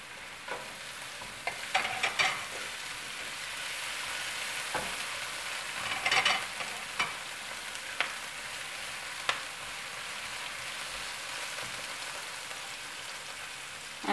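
Ginger, garlic and curry leaves frying in a pan for Sri Lankan pan rolls, giving a steady close sizzle with occasional stirring clatters and small spattering pops throughout, no talking.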